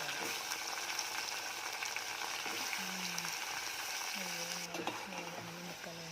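Chopped brinjal and onions sizzle steadily in a hot pan for a mutton-style brinjal and potato curry, a continuous close frying hiss with a few brief tonal clinks and scrapes.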